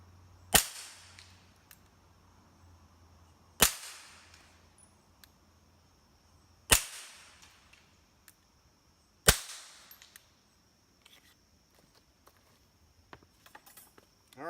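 Four sharp, suppressed shots from an M&P 22 Compact rimfire pistol fitted with a Silencerco Hybrid suppressor, evenly spaced about three seconds apart, each a crisp crack with a short decaying tail, followed by faint clicks and handling noise.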